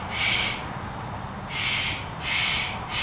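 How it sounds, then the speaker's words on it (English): A pet cockatoo calls in the background of a room around a model railroad layout, giving three or four rough, drawn-out screeches in a steady rhythm, each about half a second long and fairly prominent. "And that's my cockatoo in the background, if you actually can hear him."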